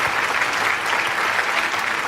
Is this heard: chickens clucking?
no